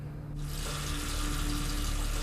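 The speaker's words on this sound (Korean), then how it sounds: "또다시 들려오는 물소리." Bathroom tap suddenly turned on in an apartment, water gushing steadily into the basin with a bright, hissing splash that starts abruptly and continues loud and close.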